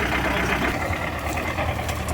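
A tractor engine runs steadily nearby outdoors, a loud, continuous low rumble with a knocking texture and no pauses.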